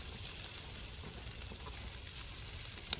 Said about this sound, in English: Now I'm cooking up the sausage.